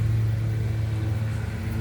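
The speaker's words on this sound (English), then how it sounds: "so sorry for the lawnmower noise" A neighbor's lawnmower cutting grass nearby gives a steady, low engine drone with a slight wavering throb, continuous throughout, with no one talking.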